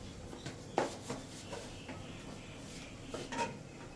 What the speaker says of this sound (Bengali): এবার একটু ঢাকনাটা দিয়ে ঢেকে দাও